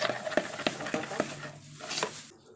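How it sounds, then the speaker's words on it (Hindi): A spoon stirs spices with garlic and ginger paste in a bowl, making a quick series of clinking, scraping taps before trailing off into quiet. "अब इसको अच्छे से मिक्स कर लेंगे।"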